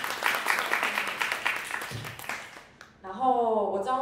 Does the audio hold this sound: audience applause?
yes